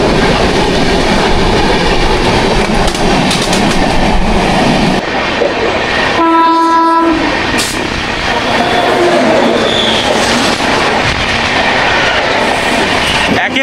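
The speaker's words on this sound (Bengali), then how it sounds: "একটা ট্রেন পাস হচ্ছে এখানে বিশাখাপট্টনম তো তিরুপতি।" A passenger train running from Visakhapatnam to Tirupati passes close by, a loud continuous rumble and clatter of wheels on rails with a brief high tonal whistle-like squeal in the middle, voices faintly mixed in.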